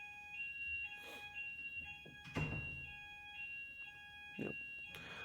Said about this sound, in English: Someone keeps pressing the emergency alarm down below